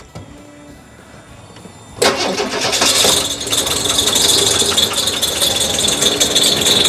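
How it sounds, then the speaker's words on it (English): A Holden VK Berlina barn find, sitting unused for 12 years, cranks and fires into a loud, rough running engine with a rattle after a quiet lead-in, close by. "So now if we plug this in and then go try and start the car, if the injectors are good, it'll start."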